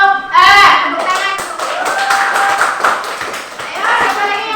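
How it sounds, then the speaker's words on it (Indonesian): A room of children claps together loudly, a dense burst of applause that fades slightly and picks up again, with young voices mixed in. "Tepuk tangan."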